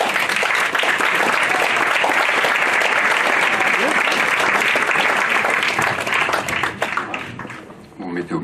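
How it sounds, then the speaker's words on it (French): An audience at a stage event applauds as two guests are invited up. Loud, sustained applause runs for several seconds, then thins out and fades near the end as a few voices come through. "Merci de les applaudir."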